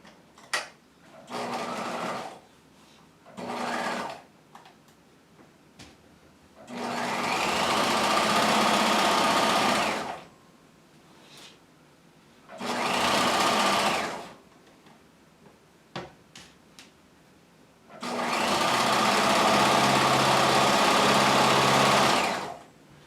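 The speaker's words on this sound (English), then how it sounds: "I'm going to start at the bottom and stitch up into that point." A sewing machine stitches up a jacket lapel from the hem toward the point, running in several short and long bursts with quiet pauses between, loud and close.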